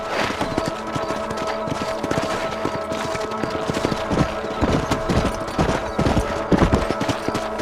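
Horse hooves while riding in the video game Red Dead Redemption, a rhythmic, continuous clip-clop of galloping hooves with saddle creaks and outdoor ambience, fairly close and steady throughout.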